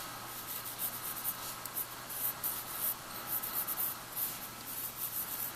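A pencil lightly sketches a baby dragon on paper, soft scratchy strokes close up in short irregular bursts, quiet and alone.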